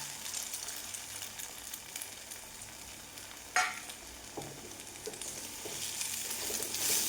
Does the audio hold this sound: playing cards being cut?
no